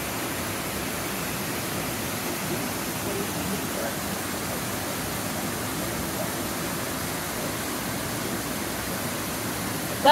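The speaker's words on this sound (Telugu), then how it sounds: "ఇది యాక్చువల్ జలపాతం." The Hermitage waterfall pours with a steady, even rush of falling water, a constant broad hiss with no breaks and no voices.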